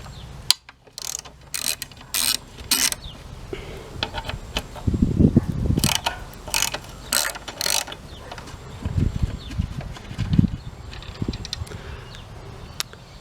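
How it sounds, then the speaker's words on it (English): Bolts being ratcheted out of the fuel tank on a Honda CT110 trail motorcycle: several bursts of rapid ratchet clicking, some metallic clinks and handling knocks between them, close and fairly loud, with no talk. "Now we can get to the two bolts on this side, two on the other, and remove the fuel tank."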